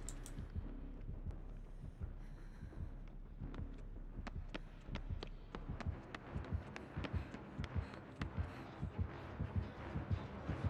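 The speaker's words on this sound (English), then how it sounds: "Oh, wait, I hear heartbeat." A killer's terror radius heartbeat from the video game Dead by Daylight throbs in a steady, repeating double-thump rhythm that grows more prominent over the span. It plays alone at a low level among faint game ambience.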